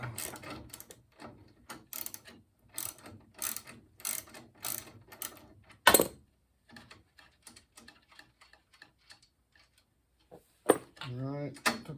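A nut being worked off the flywheel of a Sole E35 elliptical trainer with a ratchet, bursts of loud close clicking ratchet strokes and metallic clanks, broken by pauses and someone talking.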